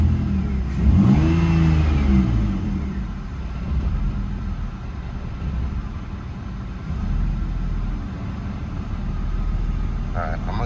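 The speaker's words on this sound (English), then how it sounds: "But so far, revs look good. They're staying in one spot." A BMW E46 idles with its revs holding steady, a low continuous engine rumble close by, with a brief whine early on and a few quiet background sounds.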